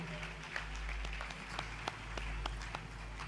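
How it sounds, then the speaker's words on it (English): A church congregation claps after a sermon, a sparse, fairly distant patter of individual claps over a steady low hum. "Please applaud him again."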